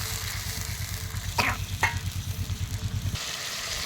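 Onion and spices frying in oil in a pan over a wood fire, a steady close sizzle with a couple of sharp stirring scrapes partway through and a low crackle underneath, no talk.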